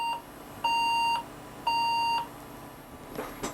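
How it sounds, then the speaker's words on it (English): A 2001-era Duron Socket A computer with DDR memory gives long, steady, evenly pitched BIOS beeps signalling a memory error, two clearly sounding here, with low background hum in between. "We have 3 long beeps. I'm guessing that's a memory error."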